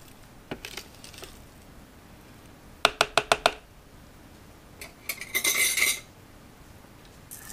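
Spatula scraping and knocking against a blender or food processor bowl, a quick burst of five sharp taps followed by a longer rasping scrape, near and fairly loud, with no talk.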